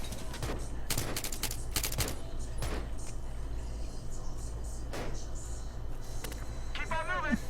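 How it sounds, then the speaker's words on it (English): Gunfire in the Battlefield video game: several loud bursts and shots early in the clip, with a steady background rumble and occasional players talking over the action. "Lots of bullets coming."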